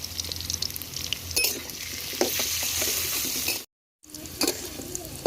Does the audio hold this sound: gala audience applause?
no